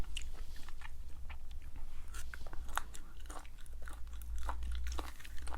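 Close, steady chewing and crunchy biting on stir-fried chicken gizzard, made at home, with wet mouth sounds repeating in an irregular rhythm and no talk.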